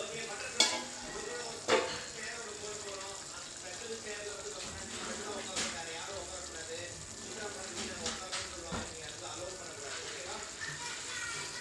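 Egg masala sizzles gently in a pan while a spoon stirs and scrapes it, giving soft steady frying with a few sharp clinks, and a voice speaks over the cooking.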